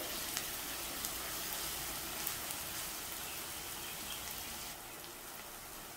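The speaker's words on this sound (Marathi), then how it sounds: "आता पुन्हा मी थोडा आलं लसूण पेस्टचा कच्चा वास जाईपर्यंत परतून घेते" Onion and ginger-garlic paste sauté in a pan, giving a steady, fairly faint hiss and crackle like light rain that runs throughout and drops slightly softer near the end.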